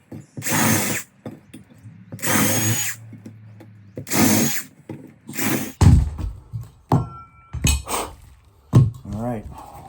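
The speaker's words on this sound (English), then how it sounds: "let's drill these out" A power drill fitted with a drill stop bores holes in the floor of an RV toy hauler for a golf cart tie-down, three loud separate bursts of drilling followed by clanks, rattles and handling noises close by.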